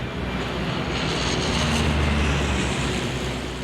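An Embraer Brasilia aircraft's engine drones loudly and continuously in flight, a dense steady roar with a deep rumbling low end and no pauses.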